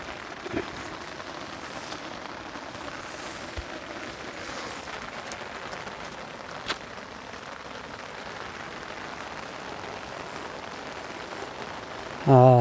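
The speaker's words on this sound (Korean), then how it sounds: "지금 비가 아, 너무 많이 와서 아무래도 더 하려고 하면 어려울 것 같은데요." Heavy rain falls steadily on surfaces outdoors by a river with natural stones, a dense continuous hiss with occasional drips, and a voice starts briefly at the very end.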